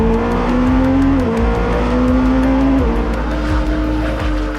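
A roaring Porsche endurance racer with a twin-turbocharged 4.6-litre engine of roughly 700 horsepower pulls close and loud, rising in pitch between several quick gear changes.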